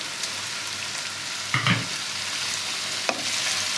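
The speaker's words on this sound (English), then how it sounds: "So the potatoes have been sizzling away for like 5 minutes." Steady crackling sizzle of potatoes frying in a pan for an aloo gobhi curry, with a couple of brief clinks or stirs over the hiss.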